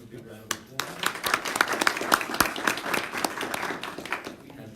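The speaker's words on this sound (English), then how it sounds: "Let's give him a big round of applause." An indoor audience at a chamber of commerce event gives a round of applause for a county legislator, with a dense burst of many hands clapping that builds quickly and tapers near the end.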